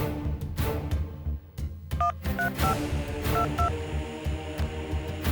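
A telephone number is dialed on a keypad, several short paired tones in quick succession over a busy background of music and room noise.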